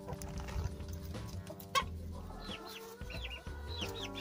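Bresse chickens clucking in their coop on a cold morning: a scatter of short, close clucks and higher peeping calls over a steady low background hum.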